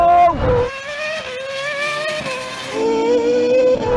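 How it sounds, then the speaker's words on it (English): A Red Bull Formula One race car at a night drag race passes with a loud high-pitched engine whine that drops in pitch as it goes by, then rises again under a second strong engine tone. "I can hear the Formula One cars coming."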